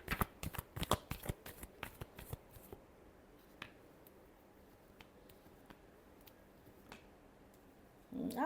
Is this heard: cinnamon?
no